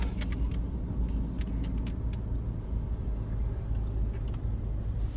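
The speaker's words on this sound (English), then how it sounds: "this diversion comes with a long queue of cars and vehicles" A long queue of cars and other vehicles idles and creeps along a road diversion, producing a steady low traffic rumble with faint scattered clicks and rattles nearby.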